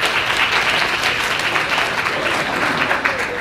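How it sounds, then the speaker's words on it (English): Loud, close audience applause at an organization development network presentation, dense clapping from a room full of people sustained evenly throughout, with faint voices mixed in. "Oh, let's give them a applause."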